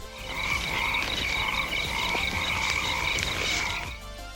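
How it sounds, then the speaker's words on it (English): A horde of frogs croaks together in a loud, dense chorus of overlapping trills and calls that runs steadily the whole time. "this scene where she attracts a horde of frogs"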